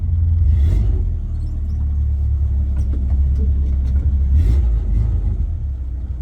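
A Suzuki Sidekick's engine runs steadily in reverse, a loud, close, low rumble with a brief rise in revs near the middle and no talking over it.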